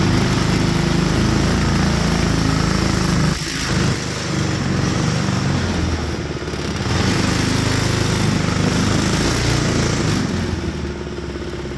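A small-engine vehicle runs and drives, its loud, steady motor droning nearby with a brief dip in the middle before the roar resumes, and no talking.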